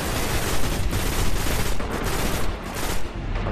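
Rapid, sustained automatic gunfire from a recoil-heavy weapon in the first-person shooter Destiny, dense overlapping bursts filling the whole stretch with a brief dip near the end.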